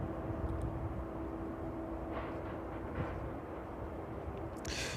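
Distant aircraft on final approach at East Midlands Airport on a breezy evening, a low steady rumble holding throughout with faint wind, no speech.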